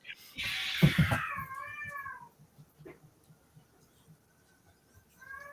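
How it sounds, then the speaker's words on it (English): Cats yowling and meowing loudly together for about two seconds, drawn-out wailing cries that fade, with a brief quieter cry returning at the end amid faint background noise. "Can anyone hear the cats fighting?"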